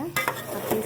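Spicy mutton curry stirred with a spoon in an oily pan, a short burst of scraping and sizzling with a couple of quick clinks, close by.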